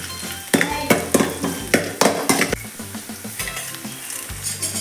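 Chopped garlic and ginger frying in a pan for a Mangalorean egg green masala: loud, close sizzling punctuated by a rapid series of spatula scrapes and knocks against the pan, with no speech.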